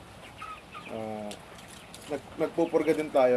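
Domestic turkey hens gobble and cluck in a quick series of calls, mixed with a person talking nearby.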